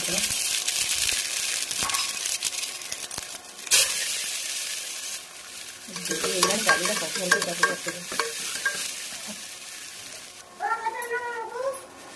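Singhi fish frying in a pan, a loud sizzle with clattering stirs, then a stretch where a cat meows over the frying near the end.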